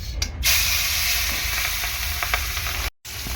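Fish dropped into hot oil for a fish curry with stalks of soft greens, bursting into a loud, steady sizzle and hiss that carries through the short clip, cut by a brief gap near the end.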